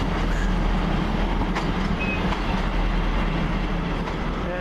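A Class 158 diesel multiple unit, running a Portsmouth Harbour to Cardiff Central service, rolls into Bristol Temple Meads station with a steady loud rumble, faint wheel clatter and a thin squeal, heard without any voices.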